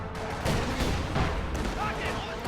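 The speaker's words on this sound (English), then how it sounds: "I think that squad just got wiped by a mortar shot" Mortar shots explode in a World War II strategy video game, a dense rumble of booms and gunfire blended with voices.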